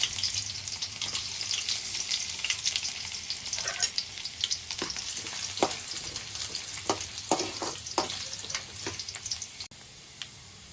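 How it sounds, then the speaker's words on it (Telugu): Ginger and garlic pieces fry in hot oil for pasta, a loud continuous sizzle close by with scattered crackles and stirring scrapes throughout. "ఆయిల్ వేడైంది మనం కట్ చేసి పెట్టుకున్న అల్లం ముక్కలు వేసుకుందాం తర్వాత ఎల్లుల్లిపాయ ముక్కలు వేసుకుందాం"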